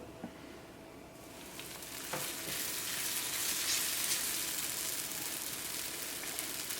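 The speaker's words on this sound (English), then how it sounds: "Make sure that when you are frying your parathas, your heat should be on highest possible." Methi paratha fries in oil on a pan over the highest heat. The hiss starts quiet, then swells after a couple of seconds into a loud, even, continuous sizzle.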